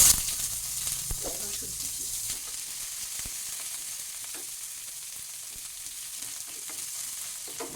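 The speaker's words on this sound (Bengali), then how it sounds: "ফোড়নটা আমার ভাজা হয়ে গেছে এবার এখানে আমি দিয়ে দিচ্ছি এই পেঁয়াজ কুচি" Chopped onion hits hot oil over already-fried tempering spices for a kachki fish chorchori, starting with a loud burst of sizzling that settles into a softer, continuous crackling fry with faint stirring.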